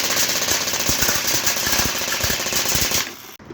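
Mugen M249 MK46 airsoft machine gun firing rapidly on full auto, a dense, continuous mechanical rattle of shots at close range for about three seconds before stopping abruptly.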